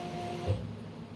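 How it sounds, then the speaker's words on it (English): A wood-cutting CNC router jogs its axes, giving a brief, quiet motor whine with a soft low hum that swells midway and then settles. "So I'm going to move the machine,"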